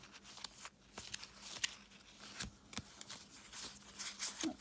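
Pokémon trading cards from a secondhand haul, in good condition, being handled and flicked through in a stack, giving soft irregular papery slides and snaps, quiet and close.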